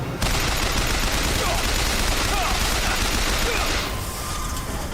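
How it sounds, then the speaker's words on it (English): Rapid, continuous gunfire from the video game BioShock Infinite, a dense, loud barrage of overlapping shots that runs almost the whole time and drops back slightly near the end. "the gunshot sounds are really freaking loud"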